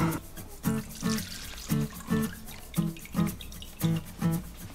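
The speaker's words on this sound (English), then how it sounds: "I'm just going to pour the grease out." Bacon grease pours out of a frying pan in short repeated glugs, about eight splashing bursts in a steady rhythm, close and fairly quiet with no talk.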